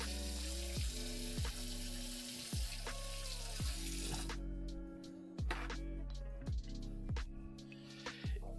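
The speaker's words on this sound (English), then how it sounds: "I'm going to make sure and wash my ladle now" A ladle being rinsed under a running kitchen tap after making a ravioli lasagna: a steady close water rush for about four seconds, then quieter dripping, with several sharp clunks of the ladle against the sink throughout.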